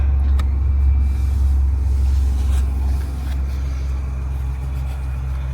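A Ford Bronco drives off after servicing, its engine producing a steady, loud low rumble with road and drivetrain noise that eases slightly partway through; no one speaks.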